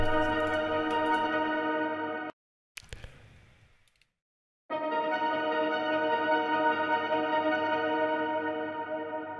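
A bandpassed synth intro rising upward, drenched in fully wet vintage reverb, sustaining as a bright layered tone that cuts out briefly around a short noisy burst before resuming steadily.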